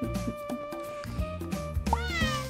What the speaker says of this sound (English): Hi, kitty. How are you?